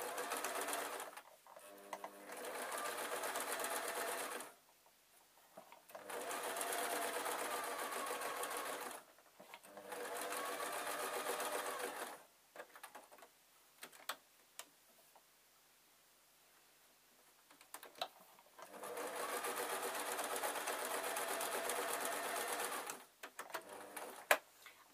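A sewing machine stitches a fabric tissue packet cover in four long, steady whirring runs separated by quiet pauses with small handling clicks, close and clear.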